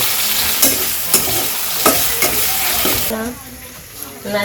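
Lotta shutki dried fish tossed into a pan with crushed garlic and onions, village-style cooking, loud crackling sizzle with repeated spatula stirring strikes, settling to a softer fry near the end.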